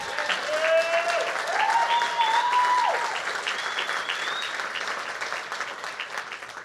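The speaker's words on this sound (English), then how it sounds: "And we should all just clap real quick for Jan." An audience claps steadily at a conference event, a sustained burst of applause that slowly fades, with brief voices faintly heard under it.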